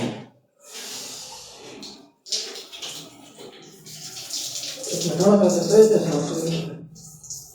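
Ice-cold water is poured in a rushing, splashing stream that swells louder in the last few seconds, mixed with people talking.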